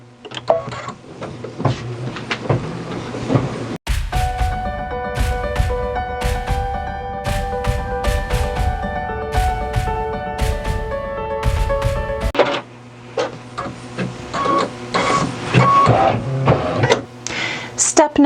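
An in-the-hoop embroidery machine stitching the eye twinkle on a unicorn stuffie, with a fast, rhythmic needle rattle running loud and close for several seconds, bracketed by talking before and after.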